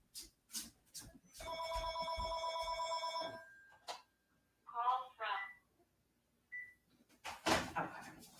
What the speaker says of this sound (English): of course now my phone is ringing, but I'm going to ignore it